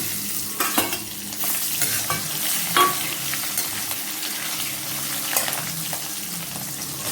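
Green chillies fry in tempering oil with mustard seeds, chana dal, urad dal and asafoetida, a steady close sizzle broken by a few louder stirring scrapes, with no talking.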